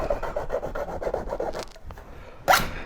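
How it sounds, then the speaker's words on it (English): A hand file rasping along the edge of a homemade metal scoop, a rapid series of about nine rhythmic strokes, close and clear, followed by a pause and a sharp knock. "Just break out a file real quick."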